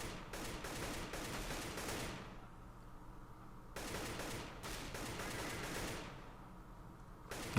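Repeated bursts of rifle fire in the tactical shooter CS:GO, two clusters of quick rapid shots separated by quieter gaps, fairly close and sharp.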